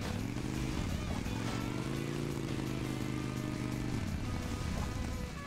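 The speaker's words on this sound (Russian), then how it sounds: "Меня не сильно и подкидывает на этом мотоцикле." A motorcycle engine in the Hill Climb Racing 2 video game drones steadily, with its pitch rising and falling as it revs over uneven terrain, continuous and even in level with no talk.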